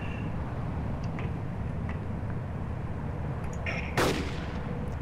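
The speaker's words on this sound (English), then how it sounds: "I'm shooting him, James." A single sharp rifle shot in the Arma 2 DayZ mod cracks out near the end, following a few faint ticks over a steady low background hum.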